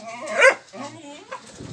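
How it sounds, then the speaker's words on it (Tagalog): A single sharp dog bark, followed by faint whimpering and soft background voices. "Maingay yung aso natin dyan eh"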